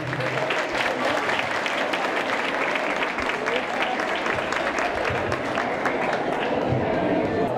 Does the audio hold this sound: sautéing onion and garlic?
no